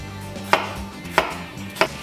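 A knife chops cucumber on a cutting board for a salad, three crisp evenly spaced strikes about two-thirds of a second apart, close and distinct, with no talking.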